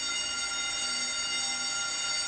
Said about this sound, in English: In the event of a fire, activate the alarm. It will sound like this.